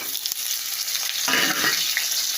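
Potatoes and leafy greens fry in a pan while being stirred, a loud, busy sizzle with scraping strokes and a sharp knock near the start, swelling midway as the food is moved.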